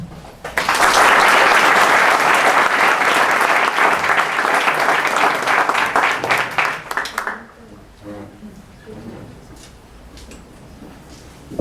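A university hall audience breaks into loud, sustained applause to welcome a guest speaker, the clapping steady for several seconds before thinning out and fading into quiet room noise.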